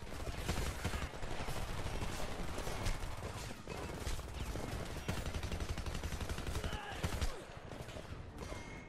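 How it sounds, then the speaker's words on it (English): Sustained machine gun fire from a second-floor window in the Homefront video game, dense rattling bursts with other gunfire mixed in, loud and continuous throughout. "Machine gun, second floor window."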